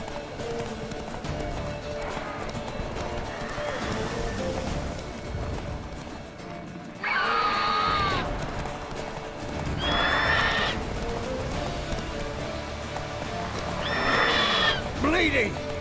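Horse in Witcher 3 neighing loudly three times in short whinnies, with steady hoof clip-clop running throughout beneath game sound.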